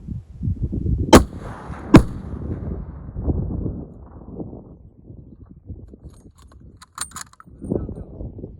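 Sharp rifle shots crack out during a mule deer hunt in open country, two loud reports close together followed later by a fainter pair of clicks and knocks, over wind and quiet murmured talk.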